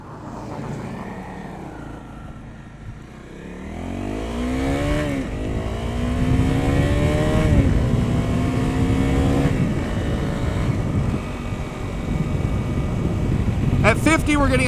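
A Honda CRF250L motorcycle fitted with 13/42 sprocket gearing rides along. Its engine revs up through the gears in rising whines with brief dips between shifts, over steady wind and road roar.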